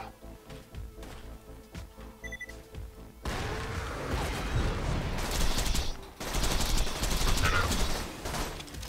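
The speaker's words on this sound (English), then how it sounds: "Oh, we've got turret fire coming through." In Borderlands 2, turret gunfire surges in as a sustained, dense barrage after a quieter opening with tonal beeps, rattling loudly and continuously with a brief dip midway.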